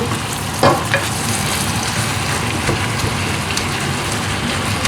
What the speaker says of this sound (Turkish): Kavrulsun iyice maydanozunu, cevizini, yağını, tuzunu, biberini neyse hepsini güzel kavrulsun suyunu çekene kadar.